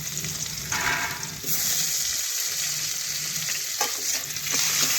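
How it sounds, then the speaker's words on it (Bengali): Thin-cut potato sticks frying in hot oil, a steady loud sizzle running throughout with occasional stirring scrapes, no voices. "ওই আলুগুলো এখন ওই তেলে ভেজে নেব"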